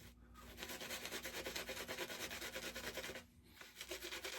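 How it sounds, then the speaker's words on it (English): Shaving brush working lather into a beard during a wet shave, a close, brisk bristly scrubbing in quick back-and-forth strokes with one short pause near the end. "it is recommended that you break the backbone and really work it into your beard"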